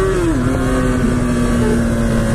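A motorcycle engine holds a steady hum that drops in pitch as the rider brakes hard into a stoppie at a red light, with continuous wind rush over the microphone throughout.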